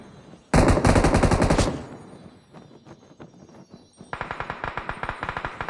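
Automatic gunfire in the battle royale video game PUBG: a loud, dense burst of rapid shots, then scattered quieter distant pops, then another sustained rapid volley of sharp cracks.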